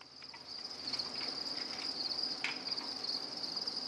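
Dense, steady chirping from many crickets at an insect farm fills the air, a continuous high trill that stays constant throughout.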